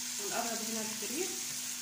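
Chicken with grated, drained onions and green freekeh is stirred together in a hot pan, giving a steady close sizzle with soft scraping movements throughout.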